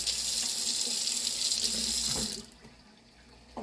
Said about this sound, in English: I'm gonna wash some rice.